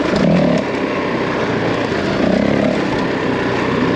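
A Honda CRF450L enduro motorcycle runs in low gear at Foxborough Quarry, its engine pulling hard in a steady, loud, close drone that holds without a break.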